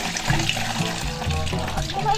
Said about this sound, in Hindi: हाथ धो ले छी।